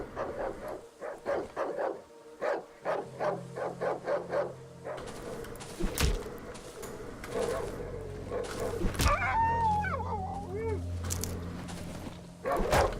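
Dogs bark and yip in the Darkwood survival horror video game, a run of sharp repeated barks up front giving way to a scuffle of attacking growls and snarls over eerie game ambience and music.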